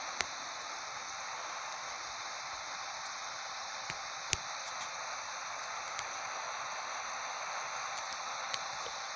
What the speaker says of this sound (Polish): Kij z tym, że deszcz.